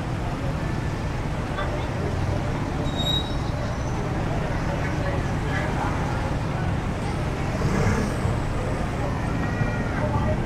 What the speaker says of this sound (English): Cars going both ways.